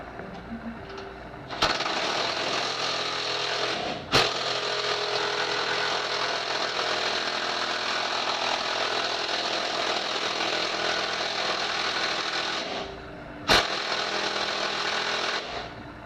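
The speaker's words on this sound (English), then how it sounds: "Put my little Milwaukee 18 to the test right there." A Milwaukee 18V power tool runs at full speed on a 2006 Porsche Cayenne during a hitch install, a loud, steady, close whine with a sharp impact knock near the start and another near the end, then it briefly stops.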